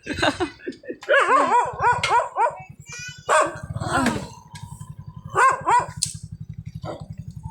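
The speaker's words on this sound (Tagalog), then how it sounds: "Ayan, may aso dito." Several dogs bark and yip in rapid bursts close by, over a steady low engine rumble, with high whimpering yelps mixed in.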